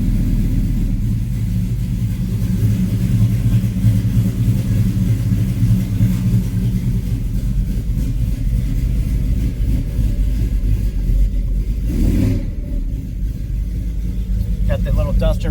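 1972 Plymouth Duster engine idling, a loud, steady low rumble close by that continues unchanged throughout, with a brief dip near the end.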